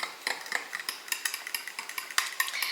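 Spoon stirring a chunky taco meat mixture in a bowl, a steady run of close, rhythmic scraping clinks and knocks, roughly several per second, with no talk.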